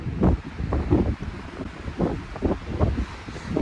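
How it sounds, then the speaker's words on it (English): Wind gusts steadily across a mountain peak in Sequoia National Park, a continuous low buffeting roar with swelling pulses that batter the microphone throughout. "Hear that wind?"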